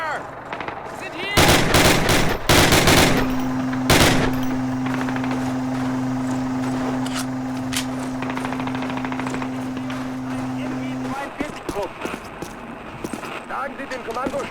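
Machine gun covering fire in Call of Duty, a WWII shooter: rapid loud bursts rattle early on, followed by a long sustained tone and scattered distant gunfire, with shouting voices in the mix.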